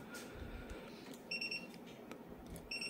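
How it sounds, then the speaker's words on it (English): A Hioki DT4261 digital multimeter buzzer beeps while auto-ranging, giving two short high-pitched bursts of beeps over a faint background hiss. "it continually beeps while auto ranging until the correct value is stabilized and displayed on the screen"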